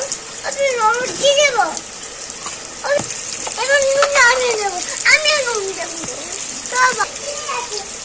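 Cut potatoes fry in hot oil with salt and turmeric in a Bengali home kitchen, giving a steady hissing sizzle beneath a voice that talks throughout.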